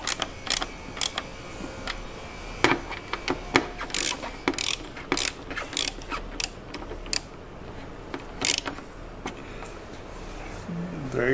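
Hardware on a Suzuki V-Strom motorcycle windscreen mount is tightened by hand, giving a run of quick, close ratcheting clicks in uneven bursts with short pauses between them.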